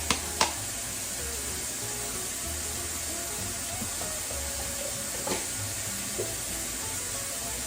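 Lamb loin chops frying in a pan give a steady, even sizzle and hiss throughout, with a couple of brief clicks near the start, close up and without speech.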